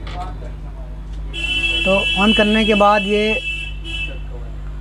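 A Dell Inspiration 3521 laptop with its battery removed emits steady high electronic beeps on power-on, a persistent tone running under someone speaking over it.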